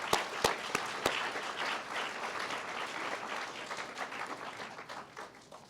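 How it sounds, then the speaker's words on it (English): Sustained applause for a choir from an audience at the 35th annual Du Bois Lecture, opening with a few sharp, distinct claps before settling into dense, steady clapping that slowly fades. No one speaks. "Let's give the choir another round of applause."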